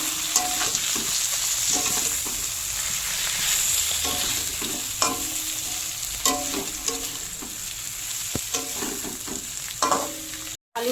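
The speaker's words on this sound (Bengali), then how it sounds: "এবারে দিয়ে দেবো ভেজে রাখা আলু আর পটল" Pre-fried potatoes and pointed gourd tossed and stirred in spiced oil in a pan, with a steady sizzle and repeated scraping knocks of the spatula throughout, loud and close, no talking.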